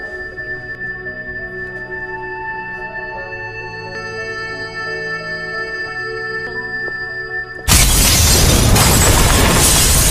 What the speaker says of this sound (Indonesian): Tapi seketika terjadi ledakan hebat di dalam kedutaan India